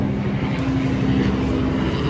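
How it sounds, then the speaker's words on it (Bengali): A helicopter passes overhead as a loud, steady engine and rotor drone that fills the whole moment without fading, with no speech. "হেলিকপ্টার যাচ্ছে"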